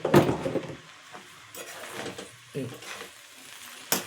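Nalla meat frying in a pan after garam masala is added, with soft sizzling and a few scraping stirs and clinks of a spoon against the pan, close and fairly quiet, without talk.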